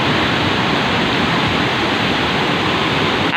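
Heavy monsoon rain pours steadily during flooding in the Pangasinan area, a dense, loud, unbroken hiss with no letup.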